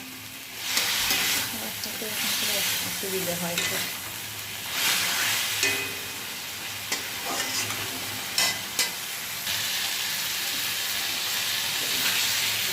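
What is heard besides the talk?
chicken being fried and stirred in a wok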